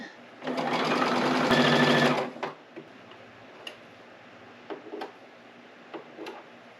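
A sewing machine stitches navy and white checkerboard quilt pieces in a loud, close, rapid buzzing burst lasting under two seconds, followed by faint ticks and light handling clicks.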